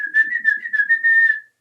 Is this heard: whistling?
yes